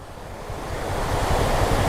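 A monsoon waterfall roars as a broad, steady rush of water that grows slightly louder over two seconds. Wind buffets the microphone, and no voices are heard.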